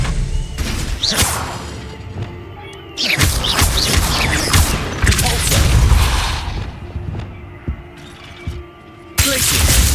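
The Confringo fire spell goes off in Hogwarts Legacy during dueling practice, with sharp whooshing blasts, crackling bursts and shattering impacts landing close and loud in quick succession.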